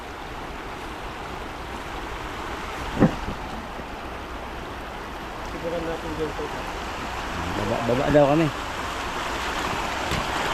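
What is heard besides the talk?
strong river current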